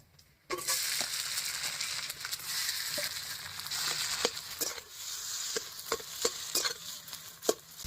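Boiled potatoes go into a pan with chopped green chilli and are stirred: a steady sizzle with repeated sharp spatula scrapes and knocks, close and moderately loud, for making Bengali aloo chop filling.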